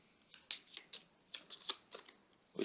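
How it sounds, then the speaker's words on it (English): Playing cards for the Fire & Stone: Siege of Vienna 1683 board game being shuffled up close, several quick papery riffling bursts in a row, with no talking. "We shuffle them."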